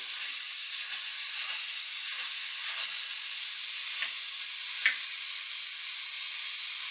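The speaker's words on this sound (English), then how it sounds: "All the air is pushing all the water out" Compressed air forcing water out of a cottage's water lines, a loud, continuous hiss and spray with a few brief sputters and pops, close by and without talk.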